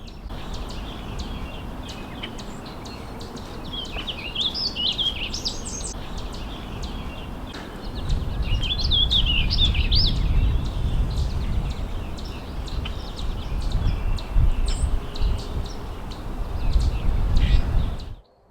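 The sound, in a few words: small songbird singing in spring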